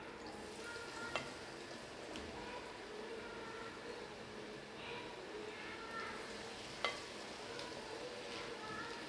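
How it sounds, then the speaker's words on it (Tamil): Chickpeas being deep fried a little at a time in hot oil, giving a steady, dense sizzle and crackle that holds evenly throughout, with a couple of brief sharp clicks. "இப்போ இதில் கொஞ்சம் கொஞ்சமாக போட்டு இதை பொரித்து எடுத்துடலாம்"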